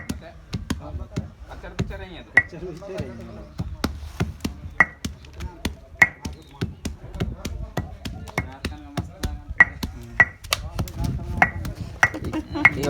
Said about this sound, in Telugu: ఇలా దంచుతున్నారు మరి